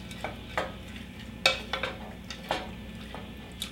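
Peas being stirred into a gently spiced tomato sauce in a pan, with soft scraping strokes at an uneven rhythm over a quiet sizzle, close and fairly faint.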